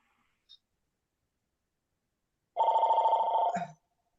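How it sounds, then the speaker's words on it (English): A mobile phone rings indoors with one short warbling burst that lasts about a second. It stands out clearly against near silence, and a faint click comes before it. "Sorry, that was my phone."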